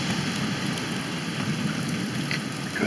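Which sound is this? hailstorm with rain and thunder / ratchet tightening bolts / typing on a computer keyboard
hailstorm with rain and thunder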